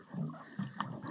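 Water draining out of a ram pump intake into a creek gurgles and splashes in short, faint bursts, close by.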